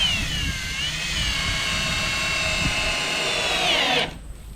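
A power drill drives 2.5-inch construction screws into shed shelving, one sustained whining motor tone that sags and rises under load for about four seconds, then cuts off abruptly; close, loud and without talk.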